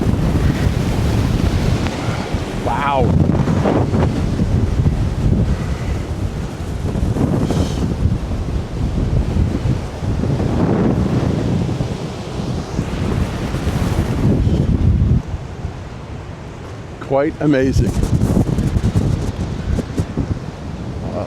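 A Nor'easter storm lashes the coast with roaring wind buffeting the microphone and heavy surf crashing continuously, with a man briefly exclaiming amid the din.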